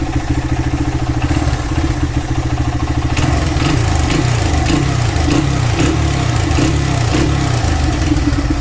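A Honda XR100R motorcycle engine runs steadily after a carburetor rebuild, a loud, close, even idle with mechanical clatter that picks up slightly partway through, with no talking.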